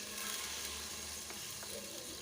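Ginger garlic paste frying in half a cup of oil in a pan, giving a steady, dense sizzle throughout with a couple of faint clicks from stirring, no talking.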